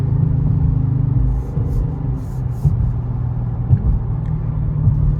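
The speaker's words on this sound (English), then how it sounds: "Car is still pretty loud." A Dodge Charger RT's engine rumbles deeply from inside the cabin while driving on the way to a gas station, a steady low drone with a few faint knocks and clicks; no talking.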